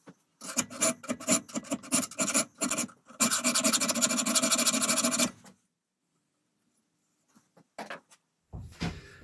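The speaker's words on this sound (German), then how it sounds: "Wir feilen es mit einer relativ großen Rundfeile ein" A large round file rasps a notch into a knife blade: a burst of short scraping strokes, then a dense continuous stretch of filing, followed by near silence and a few faint knocks.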